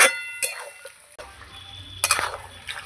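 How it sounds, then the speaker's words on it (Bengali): Meat stirred with salt and spices in a pan, a few clinking spoon scrapes against metal over a low sizzle, close and intermittent. "লবণ দিয়ে এবার ভালো করে নাড়াচাড়া করে নেব এইভাবে আমি কষিয়ে নেব মাংসটাকে"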